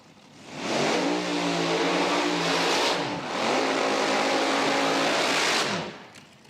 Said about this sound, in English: Steve Furr airs it out to go a 377 on the side and moves on to round number next